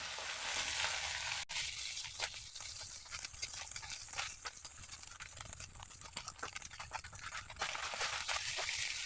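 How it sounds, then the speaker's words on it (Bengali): Small chuna fish frying crispy in a hot pan of oil, a dense, steady crackling sizzle that runs throughout, with occasional sharper pops and scrapes as the fish are stirred. "মুচমুচে করে ভাজবো"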